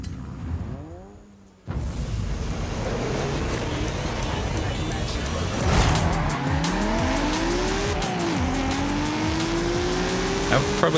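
Mazda RX-8 engine in Forza Horizon 5 revs and rises in pitch through gear changes, with tire squeal and a brief drop to near quiet early on, loud and close, with a voice talking over it.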